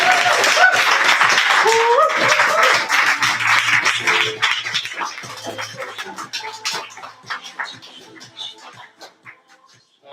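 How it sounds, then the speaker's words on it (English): Open mic slam crowd claps and cheers as a poet walks to the stage, loud dense applause mixed with voices that gradually thins out and fades over several seconds. "Clap until the poet gets to the stage."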